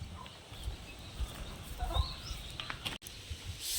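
Free-range village chickens on a small poultry farm cluck faintly and intermittently amid rustling and background noise, with nobody speaking.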